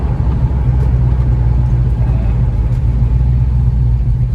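Idling V8-type rumble from a 1969 Chevrolet Camaro sports car, a steady low purr held close and loud throughout with no change in pace.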